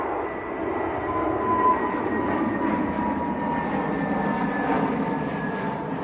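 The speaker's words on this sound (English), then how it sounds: "Lufthansa on the roll, A320 Neo." Lufthansa CityLine Airbus A320neo rolling for takeoff at Manchester Airport, a steady broad engine roar held at moderate distance, evenly loud throughout without talk.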